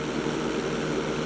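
Plane engine droning steadily during an inside loop in GTA V, a loud, continuous propeller roar with no break.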